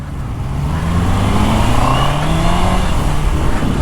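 A Honda CBR 650R motorcycle pulls hard in first gear, its engine note rising steadily and loud close by, with wind rushing over the microphone throughout and no talking.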